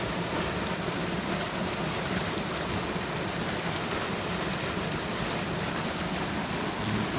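Water gushes steadily from 8-inch double valves on a piped irrigation system, 2 km from the pumping station: a loud, continuous, dense rushing roar with no break and no voices.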